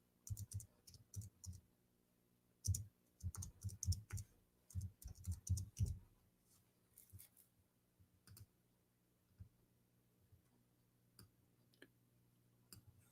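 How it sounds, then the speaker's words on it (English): Typing on a computer keyboard: quick clusters of light clicking keystrokes in bursts during the first six seconds, then sparse scattered taps and pauses in a quiet room. "I'm typing in English."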